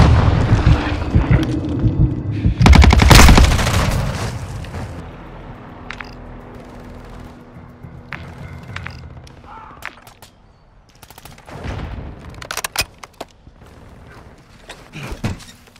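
Gunfire and explosions in Call of Duty: Modern Warfare II multiplayer on PS5 on the Farm 18 drop zone map: a heavy blast early, then scattered sharp shots and impacts over a low rumble, with a rise in firing near the end.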